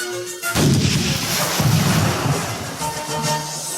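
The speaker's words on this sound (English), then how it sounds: "The Nautilus shook from the explosions of the cannonballs in the water" Heavy cannon fire booms out in repeated deep blasts, loud and rumbling, one after another with a continuous roar between them.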